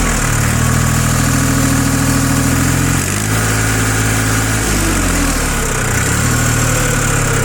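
A large three-cylinder diesel engine on a 4WD loader tractor idles loudly nearby, a steady low rumble with brief dips in pitch as the throttle shifts.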